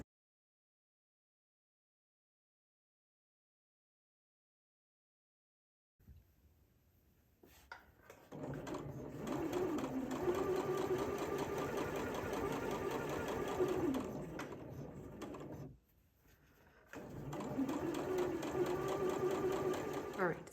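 Sewing machine stitching and back stitching while understitching a garment collar facing close to the seam, starting after several seconds of silence and running steadily for long stretches with one short pause, fairly loud and close.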